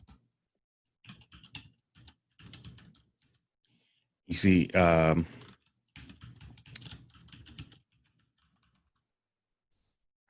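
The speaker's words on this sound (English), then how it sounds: "Typing in some letters there." Computer keyboard typing in short bursts of rapid clicking, close and fairly quiet, with a person speaking briefly in the middle.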